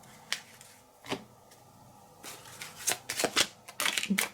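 A large deck of board game cards for It's a Wonderful World is shuffled up close: a few isolated papery flicks at first, then a dense run of quick riffling bursts toward the end.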